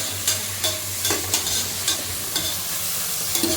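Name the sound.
tomatoes and vegetables being sautéed in a pan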